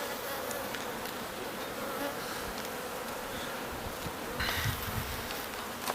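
Honeybees hum at a new hive one week after a captured swarm was housed, a soft continuous buzz with faint close fly-bys, heard without talk.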